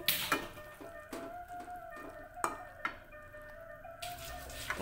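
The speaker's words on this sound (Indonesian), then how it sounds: "Kita aduk ya." A spatula scrapes and taps through green chili and jengkol frying gently in a pan, with soft sizzling and several sharp clacks spaced a second or so apart, close and fairly quiet.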